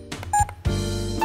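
A 308 nm UV light therapy device, the SQ1 LED phototherapy unit, gives a few short electronic beeps in quick succession, close and clean, with no talking over them.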